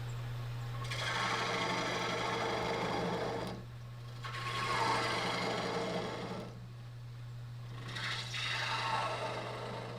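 A wood lathe cuts a recess into a four-legged wooden bowl, giving a steady whirring scrape in three long bursts with short dips between them, over a constant low motor hum.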